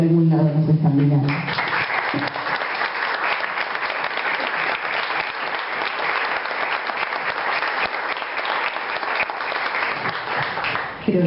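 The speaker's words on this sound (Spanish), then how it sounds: "me gustaría que en vez de hacer un minuto de silencio le demos un gran aplauso" Loud, steady applause fills a council chamber in place of a minute of silence, beginning after a brief spoken line and continuing as thick, even clapping to the end.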